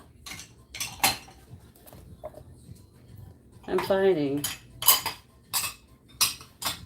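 Dishes and cutlery clink and clatter in sharp, scattered bursts as they are gathered up at home, with a short stretch of someone talking midway.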